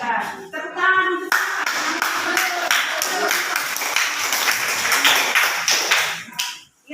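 Pupils in a classroom clap their hands together in a lively, uneven burst lasting several seconds, close and fairly loud, with a few voices mixed in before it fades out.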